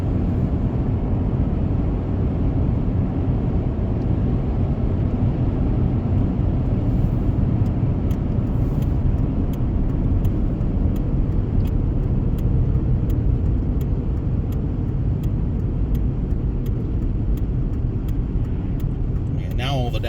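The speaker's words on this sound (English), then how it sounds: "Car ain't too shabby. Doesn't run bad." Panther-body car driving along with its engine running, a steady low rumble and road noise filling the cabin throughout, with faint voices under the drone.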